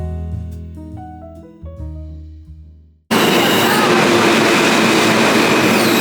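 New York City subway train, a loud continuous rumble and rattle that cuts in abruptly halfway through after quieter music, staying close and steady to the end.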